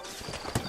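Horse hooves clip-clop on a dusty town street in the Western video game Red Dead Redemption, a short burst of steps with one sharper hoof strike, fairly quiet beneath ambient sound.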